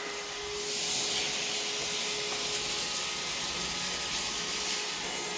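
A Moolan handheld cordless stick vacuum, 23kPa suction, runs with its third attachment fitted, cleaning wall corners: a steady, fairly loud motor whine with broad airy hiss that holds constant throughout, with no voices.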